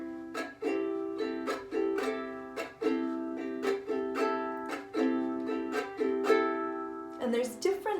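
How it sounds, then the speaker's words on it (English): A ukulele strummed in the island strum pattern, a steady repeating rhythm of chord strokes with varied down and up strums, played close and clear with no talking. "The island strum sounds like this."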